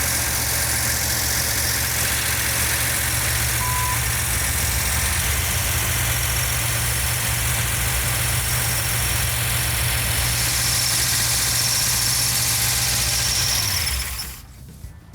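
A 1970 Dodge Challenger with a 440 Six Pack engine idles steadily with a loud, even rumble and a faint valve tick. It runs unbroken for about fourteen seconds, then cuts off abruptly.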